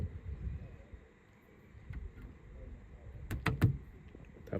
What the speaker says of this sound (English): Door handle.